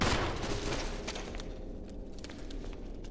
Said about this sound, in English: I don't know why I decided to go pistol on these spiders instead of shotgun